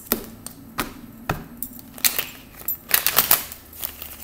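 Deck of tarot cards being shuffled, a series of close, crisp taps and snaps with a denser flurry of riffling toward the end, with no talk.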